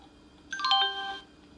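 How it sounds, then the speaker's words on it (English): A Toshiba Satellite Pro T2155CDS laptop plays its short, chiming startup jingle at boot, a brief bright run of bell-like tones heard alone. "And the boot sound."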